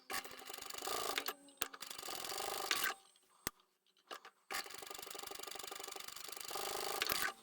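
A sewing machine stitches down the long edges of small scrap-fabric tabs for a zipper pouch in two quiet runs of whirring, separated by a short pause with a couple of clicks.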